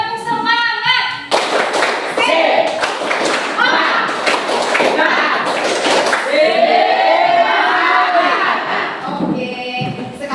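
A class of children performs the 'tepuk semangat' clapping chant, with rhythmic bursts of hand claps mixed with their chanting voices in a classroom.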